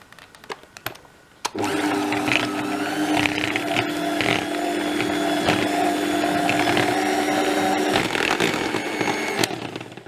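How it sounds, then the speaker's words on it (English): Electric hand mixer beating room-temperature chocolate ganache for a cake, a steady loud whirring drone that starts abruptly after a second of quieter clatter and runs continuously to the end, with no talking. "I am going to beat it with my electric mixer"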